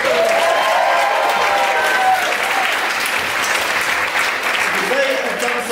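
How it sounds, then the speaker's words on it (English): A comedy club crowd breaks into loud, sustained applause for the comedians, dense clapping filling the room at close range with a few voices and cheers mixed in throughout. "Let's give them a big round of applause."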